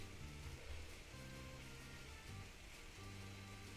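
Steady rainfall heard in the background during a Two Point Hospital session, a constant soft hiss of drops beneath low sustained game music tones.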